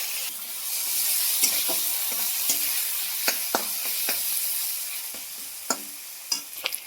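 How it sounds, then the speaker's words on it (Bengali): Chopped tomatoes fry in a pan after garlic, a continuous sizzle broken by repeated scrapes and taps of a spoon stirring, steady and close. "রসুনটা ভাজা হয়ে গেছে, এবার দিয়ে দিচ্ছি টমেটো কুচি।"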